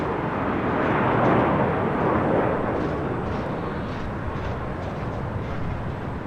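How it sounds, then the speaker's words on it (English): A United Boeing 757-200 airliner takes off at LAX, a loud, rushing jet roar that builds gently, peaks early, then eases slightly while staying steady. "Also have the Star Alliance United 757-200 taken off."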